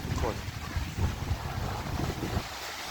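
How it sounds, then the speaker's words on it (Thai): Ocean waves at night wash onto a sandy beach on the Thai coast, a steady broadband surf roar with gusts of wind buffeting the microphone. "ดูคลื่นตอนกลางคืนกันนะทุกคน"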